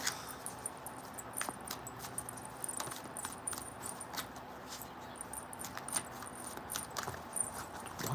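A deck of tarot cards is shuffled again and again, making a soft, continuous run of papery clicks and riffles close by with no voices.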